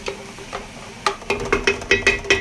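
Eggplant pieces fry in oil in a pan, with a soft sizzle under a run of sharp scraping and tapping stirring strokes that grow more frequent and louder in the second half.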